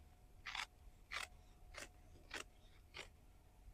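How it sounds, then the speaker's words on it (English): Fabric scissors trimming the lining seam allowance of a bag, five crisp snips at an even pace in a quiet room, close and distinct. "I'm going to trim my seam allowance down on my lining"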